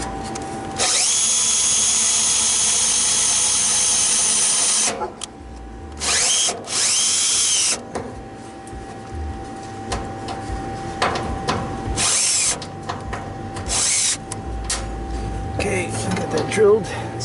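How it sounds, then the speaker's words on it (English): Cordless power drill whining in long, loud bursts while removing a condenser fan motor inside a hood, with high steady motor tones, then shorter stop-start runs amid clanks and handling noise, someone talking in between. "this is a good drill. It's good for taking everything apart and drilling."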